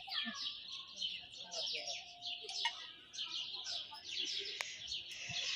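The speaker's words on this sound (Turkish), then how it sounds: "Kuş sesleri köyde daha aktifti değil mi? Kuş sesleri çiçek böyle." Several birds chirp and tweet continuously, a busy overlapping chorus of high, quick calls with a faint low background hum.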